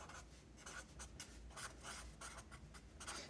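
Pen or pencil writing by hand on paper, a steady run of soft scratchy strokes and rubs, close and quiet, with no talking.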